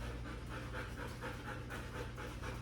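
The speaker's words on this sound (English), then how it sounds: "she's panting pretty heavy" A dog breathes in fast, heavy pants after playing outdoors on a hot day, a steady rhythmic huffing that runs close and continuous throughout.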